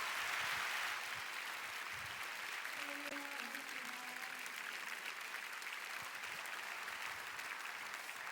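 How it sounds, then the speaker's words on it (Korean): A church audience applauds to welcome a guest gospel singer at a Daniel prayer meeting, steady dense clapping across the whole stretch with a faint voice briefly audible in the middle. "강사님이 나오실 때 힘찬 박수로 환영하겠습니다"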